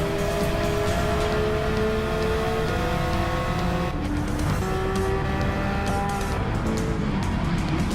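A race car in a racing video game roars continuously as it accelerates, with its engine whine rising in pitch through the gears and dropping briefly at a shift before climbing again.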